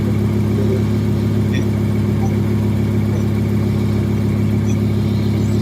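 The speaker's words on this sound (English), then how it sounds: "So now let's go to the engine sound, right? So I'm gonna play so you could hear." A 2017 Lamborghini Huracan LP 582 engine running at an auto auction yard, a steady, loud droning hum with a constant low tone and no clear revving, heard alone.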